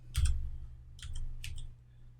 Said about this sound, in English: I'm going to press number 3 on the keyboard.